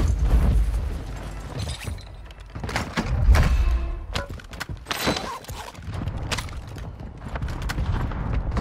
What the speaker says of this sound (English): Hunter mortar strike.